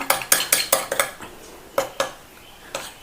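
A spoon mixing herbal shampoo gel in a bowl, giving a quick burst of sharp clinks against the bowl, then a few slower, spaced taps, close up with no voices.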